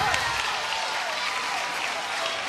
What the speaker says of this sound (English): that defense deserves a round of applause too